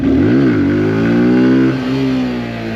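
Honda Z125 Pro motorcycle engine revving hard as the front wheel lifts for a wheelie, pitch climbing, dipping and rising again before holding a steady high drone, loud and close throughout.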